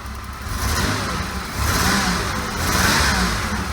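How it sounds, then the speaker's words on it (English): Car engine revving near the throttle body and airbox on a rebuilt auto-auction car, a steady close mid-pitched roar that rises and falls in a few surges, with no clear separate pops. "it does that popping noise from the throttle body airbox area"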